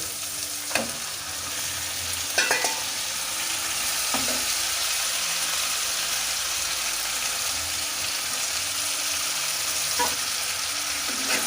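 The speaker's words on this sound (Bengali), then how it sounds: "এবার আমি মাংসটা ঢেলে দেবো" Chicken pieces frying in a pan for a Bengali gondhoraj chicken dish, giving a continuous loud sizzle with occasional clinks and scrapes of stirring.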